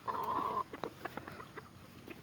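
Chickens cluck softly on a farm, with a few short scattered clucks from nearby birds after a brief sustained tonal note at the start.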